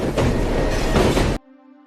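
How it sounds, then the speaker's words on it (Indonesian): Rumble and clatter of a train rolling on rails, loud and close, lasting just over a second before cutting abruptly to a faint tonal hum. "Kereta anak wisata hampir menabrak kereta 777."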